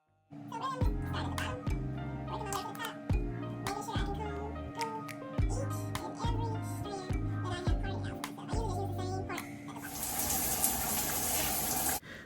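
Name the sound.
water running while washing hair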